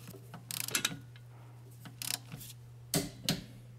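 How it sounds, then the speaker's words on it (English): A torque wrench tightening bolts on a Hyundai Sonata rear wheel bearing, several short bursts of quick ratcheting clicks separated by pauses, close up over a low steady hum. "So now we're gonna torque the other one over here."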